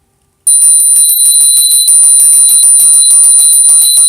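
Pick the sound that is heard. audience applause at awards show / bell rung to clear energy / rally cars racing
bell rung to clear energy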